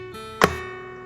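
A single percussive kick tapped on an acoustic guitar body during a two-hand percussive tapping lesson, a short close thump with resonant string ring that decays, followed by a faint light tap.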